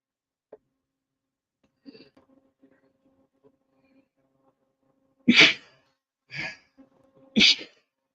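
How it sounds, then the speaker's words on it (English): Three loud, close sneezes from a person, spaced about a second apart, following quiet faint clicks and a soft murmur in an otherwise silent room. "Now the sneezing is starting."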